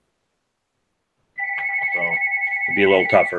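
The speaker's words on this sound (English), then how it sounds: "I apologize for the phone ringing in the background" A telephone rings steadily in the background with a sustained electronic tone, continuing under a man's speech.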